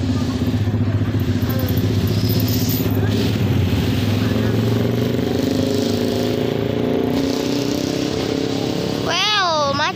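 Congested road traffic in front of the town square in Bayongbong, Garut, with motorcycle and car engines idling and revving continuously close by, a steady dense drone, and people talking over it.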